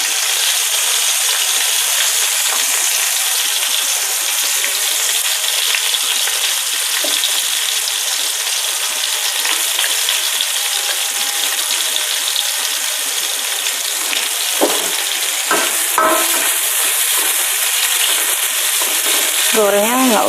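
Shallots and garlic fry in hot oil in a home kitchen, a loud continuous sizzle with steady crackling that holds evenly throughout, with occasional clinks of stirring near the end.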